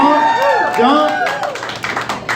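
Audience clapping and cheering at a stand-up comedy hosting set swells into a dense, close roar after a voice briefly speaks, continuing loudly to the end.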